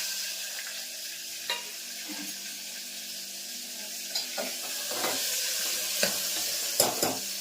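Stuffed bitter gourds with spices and chickpea flour masala fry gently in oil over low heat, a steady soft sizzle with occasional spatula taps and scrapes against the pan, close by with no speech.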